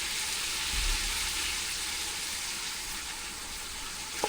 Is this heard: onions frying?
yes